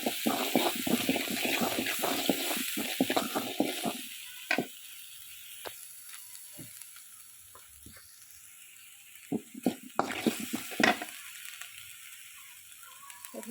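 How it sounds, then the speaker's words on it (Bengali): Potato and pointed gourd are stir-fried with spices in a pan, giving a soft sizzle broken by intermittent scraping and clinking of a spatula, moderately close and without speech. "এগুলো একটু কষাই নিই।"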